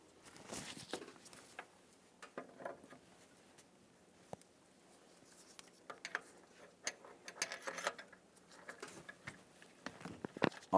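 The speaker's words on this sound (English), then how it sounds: "Let's continue on with tightening that mounting nut, driving this in." A ratchet tightens the crankshaft vibration damper mounting nut on a 1999-2006 Chevrolet Silverado engine, with faint, intermittent bursts of mechanical clicking between quiet gaps.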